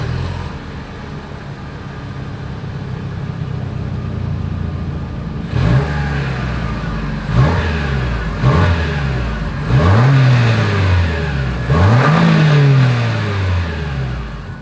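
A 2023 Lexus RX 350 engine idles with a deep exhaust note, then revs up several times in short bursts, each rise falling back to idle, loud and close.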